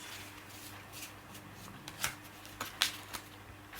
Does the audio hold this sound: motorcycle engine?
no